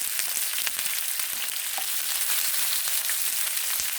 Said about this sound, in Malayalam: ഉള്ളിയെല്ലാം നന്നായിട്ട് മുരിഞ്ഞിട്ടുണ്ട് കേട്ടോ